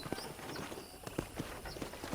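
Horse hooves clip-clopping at a walk while riding a horse on a ranch in the video game Red Dead Redemption, an even, moderately quiet rhythm of hoof strikes with no talk over it.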